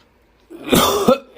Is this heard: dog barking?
no